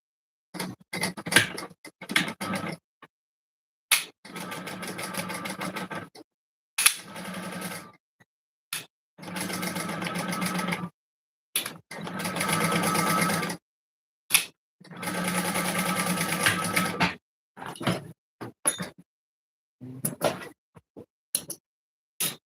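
A sewing machine stitches a clasp wallet in repeated bursts, each run of motor whir and needle clatter lasting a second or two and broken by quiet pauses and small handling clicks, close and clear.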